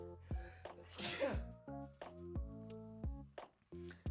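A single sharp sneeze bursts out amid close-up talking, a quick breathy explosion between spoken phrases.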